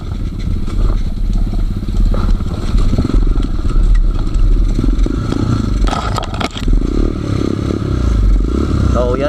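A motorcycle ridden off-road over a steep rocky mountain trail between Benguet and Pangasinan, its engine droning loud and steady throughout, with scraping and clattering from stones and a brief louder rattle near the middle.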